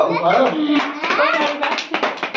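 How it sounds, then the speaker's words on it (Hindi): A young child claps hands at a one-year-old's birthday celebration, with a few soft, quick claps under steady adult speech coaxing the child. "ए ताली मारो ए छोकरा ताली मारो ताली मारो"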